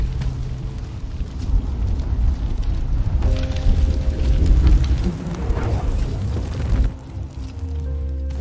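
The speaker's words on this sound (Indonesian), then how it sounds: "mobil itu seketika meledak" A car explodes after being shot: a deep, rumbling explosion with a heavy boom that swells and lingers, followed by a low sustained roar fading out.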